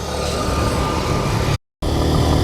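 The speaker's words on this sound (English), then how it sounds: "you can hear the firing and the sound of the bike" A Suzuki Gixxer SF motorcycle engine runs steadily at close range, a continuous rumbling drone with a brief cut to silence partway through.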